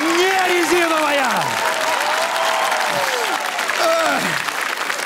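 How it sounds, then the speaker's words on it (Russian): A comedy club audience claps and cheers loudly and continuously while a host's voice calls out excitedly over the crowd noise. "Дина Саева, аплодисменты!"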